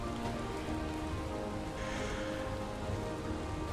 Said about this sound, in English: As much as I am sick of the rain right now, it will not stop me.